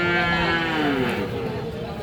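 A Sahiwal bull calf lets out one loud, drawn-out moo close by, its pitch sliding gradually downward as the call fades.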